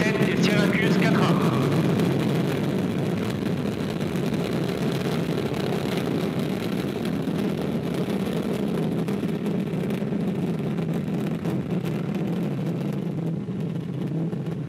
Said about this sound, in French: Allumage moteur Vulcain. Allumage des deux EAP et décollage VA-255